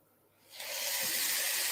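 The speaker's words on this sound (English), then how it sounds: "Nice little sizzle." A hot, steady sizzle starts abruptly after a brief quiet moment and holds as a loud, broad hiss of spiced salmon frying skin side down in a pan.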